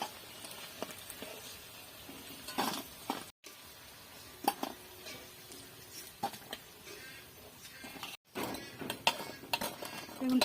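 Metal utensils clink and scrape against a frying pan in scattered light taps as crisp fried puffed-rice pakoras are lifted out of the oil, quiet and close.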